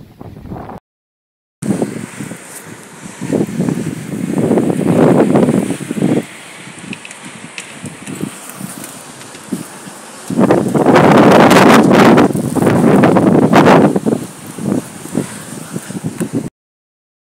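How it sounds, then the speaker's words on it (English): Outdoor east wind buffets the microphone in gusts, loud rushing surges separated by calmer stretches and a few short silences, with no talk. "This is the wind. This is the east wind."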